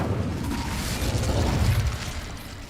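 Incendio fire spell cast in Hogwarts Legacy on hard mode, a dense rumbling burst of flame with low booming crackle sustained for a few seconds, no voices.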